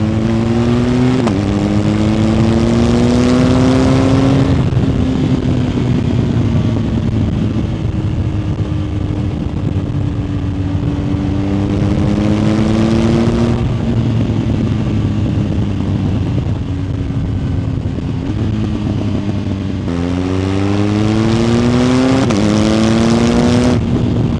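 A BMW GS motorcycle fitted with an Akrapovic exhaust and a BT Moto tune revs up loudly and close by, each rise in pitch falling back to a deep gurgling idle, repeated three times with no talking.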